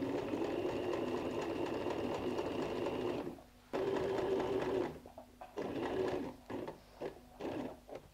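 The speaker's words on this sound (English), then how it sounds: "I just turn around and then go turn over on the other side and start sewing again" A sewing machine stitches decorations in a steady, rapid mechanical whir. The run stops briefly, then restarts in several shorter bursts separated by quiet pauses.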